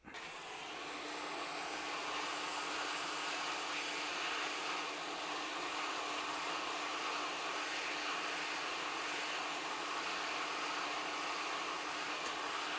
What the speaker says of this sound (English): heat gun on 330 degrees, maximum airflow